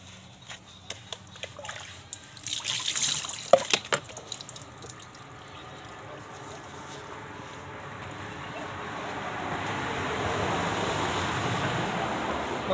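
Water pours and splashes during a bath, with scattered splashes and drips early on. A steadier, louder wash of falling water builds toward the end, close by with no clear talk.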